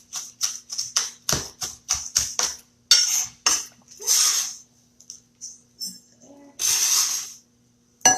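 A sharp knife chopping sweet potatoes on a board in a Southern home kitchen, a rapid series of crisp close taps and thunks, then a few scraping and clattering sounds.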